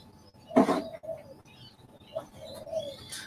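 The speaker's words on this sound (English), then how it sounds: "Annoying pigeons." Pigeons perched near a windowsill give a loud nearby coo, then softer repeated coos and faint chirps follow against a quiet background.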